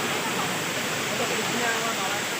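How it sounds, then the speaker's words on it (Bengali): Bamni waterfall in the Ajodhya Hills of Purulia roars up close, a loud, unbroken broadband rush of falling water that fills the whole moment. "দেখতে পাচ্ছি পুরো ঝর্ণাটা একদম কাছে"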